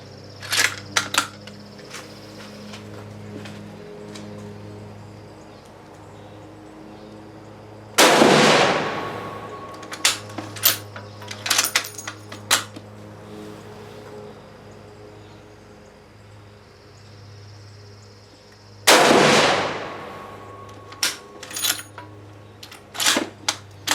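Two loud rifle shots from an M27 ring out about eleven seconds apart, each a sharp crack with a short decaying tail, separated by quieter clicks and handling noises.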